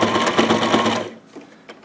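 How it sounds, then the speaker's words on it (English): A sewing machine runs a quick back-and-forth lock stitch while attaching a nametape to a patrol cap, a close, steady rapid whir for about a second before it stops, leaving faint handling noises. "here at the end, you're also going to want to do another lock stitch"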